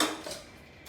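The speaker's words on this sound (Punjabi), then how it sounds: "ਹੁਣ ਆਪਾਂ ਭਾਂਡੇ ਸਾਫ਼ ਕਰਕੇ ਧੋਈਏ" A brief clink and clatter of dishes being handled, a quick metallic rattle that fades within a second.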